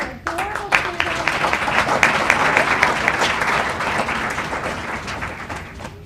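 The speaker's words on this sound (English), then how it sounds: "Let's give them all a round of applause for adorable students." An audience at a board of education meeting claps for students, a loud, dense burst of applause that sets in sharply and carries steadily for several seconds before easing off.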